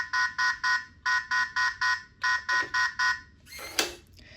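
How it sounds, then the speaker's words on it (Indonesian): Forced-entry alarm of a Philips Easy Key Alpha fingerprint door lock beeping in rapid bursts of four sharp electronic tones, repeated three times nearby, followed by a brief clatter. "dengar ada suara bip bip bip bip, itu adalah alarm yang menandakan bahwa pintu ini dibobol atau dibongkar, dibuka paksa"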